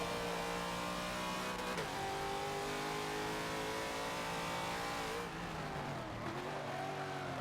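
Race car engines roar on the final lap of a Forza Motorsport 7 race, a loud sustained drone that holds steady, dips briefly while shifting, then climbs again as the cars accelerate.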